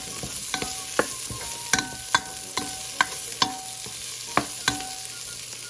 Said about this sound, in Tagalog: we have to stir it, making sure the onion and the garlic is turned light brown and cook